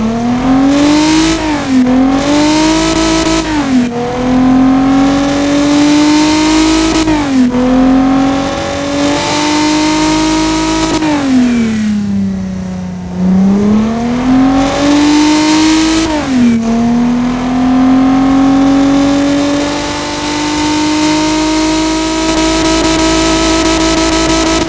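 A 90-degree V engine in the Automation game revs loudly and continuously, its pitch rising and falling through several throttle sweeps with strong induction noise, close and alone.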